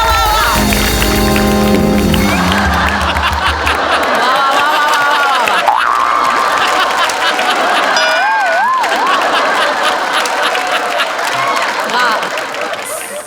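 Applause and cheering from a studio audience at a Marathi comedy show's mock award ceremony, breaking out as the best javelin throw award winner is announced; steady clapping and crowd noise blend with music and voices throughout.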